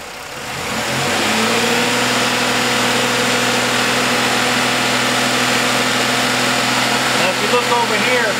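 Car engine under repair testing, idling briefly then revving up to a loud steady drone that holds for several seconds, with speech present over it.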